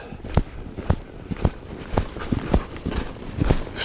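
Horse hooves thud in a regular rhythm on arena footing, about two beats per second, fairly close and moderately loud, as the horse canters along.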